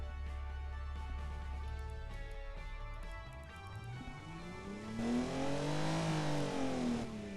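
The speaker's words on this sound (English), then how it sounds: "Crank the engine volume." A car engine in the Automation game revs up and down, its loud pitch climbing and falling in sweeping surges. The sound grows markedly louder toward the end, with a faint in-game tone pattern underneath.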